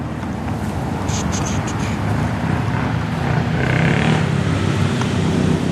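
Dirt bikes approach a rural roadside by a church on a rainy day, a steady broadband engine drone that swells slightly louder toward the end, mixed with wind noise and brief high whines.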